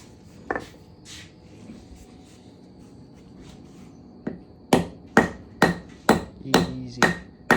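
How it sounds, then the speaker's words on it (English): Hammer blows on a 1986 Ford F250 limited slip differential, a few scattered hits followed by a steady run of six or seven sharp metallic strikes, close and loud, with no talking. "Give me that hammer."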